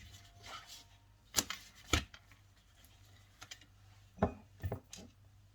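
A knife cuts through tortillas on a board in a few distinct sharp thuds, close and fairly quiet, with softer scraping between cuts.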